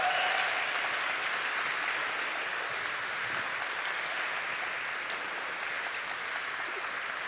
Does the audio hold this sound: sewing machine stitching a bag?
no